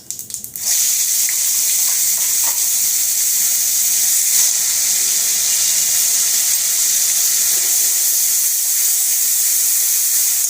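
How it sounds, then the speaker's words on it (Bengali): Ground spice paste hits hot oil tempered with whole cumin in a pan for a Bengali fish dish, giving a sudden onset into a loud, steady hiss that holds for about ten seconds with no talk. "বেটে রাখা মশলা"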